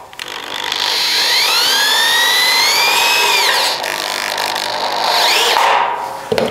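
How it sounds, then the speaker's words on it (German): An angle screwdriver whines loudly as it drives screws through drywall panels into a ceiling frame, the pitch rising and falling through two long bursts with a brief dip between. "da ist natürlich so ein Winkelschrauber ganz extrem hilfreich"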